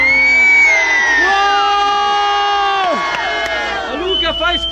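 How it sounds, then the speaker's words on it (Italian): A crowd at a motorcycle therapy event in a superpark shouts and cheers together in one loud, sustained burst of overlapping whoops and yells, tapering off with scattered shouts at the end. "Un urlo, tutti assieme!"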